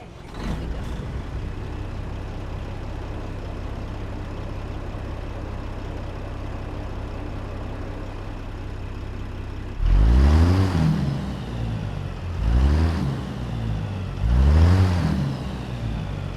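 A personal truck with a 500-horsepower Cat 15 diesel engine and 18-speed transmission in American Truck Simulator idles with a low steady rumble, then revs in three loud, throaty bursts spaced a couple of seconds apart.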